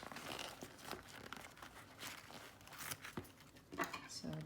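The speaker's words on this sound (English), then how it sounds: "pulling all the stabilizer out of here" Stabilizer being pulled and torn away from a freshly sewn two-zipper purse, a run of crinkly tearing and rustling bursts near at hand, with a voice talking over part of it.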